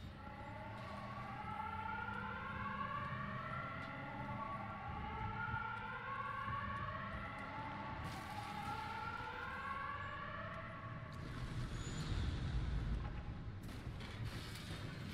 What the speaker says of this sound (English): That's a new siren.